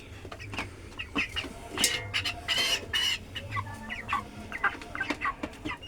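Twenty-five-day-old broiler chickens cluck and chatter in a group, with scattered close bursts and low murmuring calls throughout, plus handling noises as birds are weighed.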